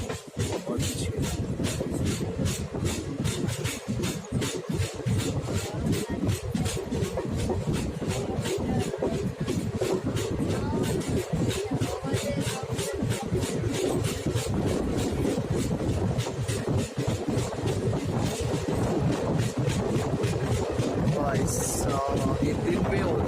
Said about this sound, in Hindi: और एक्सेलरेशन देखो, एक्सेलरेशन इतना तगड़ा एक्सेलरेशन लिया इस ट्रेन ने